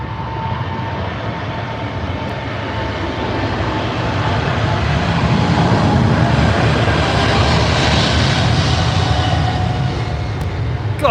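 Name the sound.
Boeing Dreamliner airliner taxiing out at Heathrow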